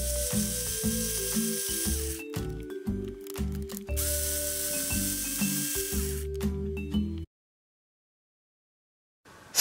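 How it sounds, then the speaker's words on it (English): Screws on the shock towers of an Element Sendero SE RC truck chassis are loosened with a small tool, giving rapid mechanical ratcheting clicks in two bursts, close and fairly loud, before the clip falls silent. "Loosen the two screws holding the shock towers and remove it."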